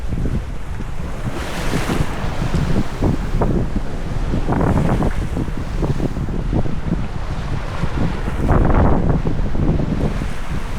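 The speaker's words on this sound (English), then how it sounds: "we were reefing because the wind raised up to 20 knots" Strong wind roars across the microphone while waves slosh and crash against a sailboat's hull as the breeze rises toward 20 knots, a loud continuous rush with surging swells and no speech.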